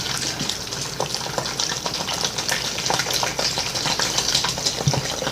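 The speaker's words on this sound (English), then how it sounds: "So I'm just going to start with the hot water." Hot water poured onto a brick of coco fiber substrate makes a continuous splashing, bubbling hiss with scattered fizzy crackles, close and steady throughout.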